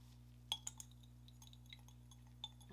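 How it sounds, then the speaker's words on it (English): Glass clinks lightly as a lavender car diffuser mixture is stirred in a glass, a few soft, sparse taps over a faint steady hum, with no talking. "now let's just stir that up"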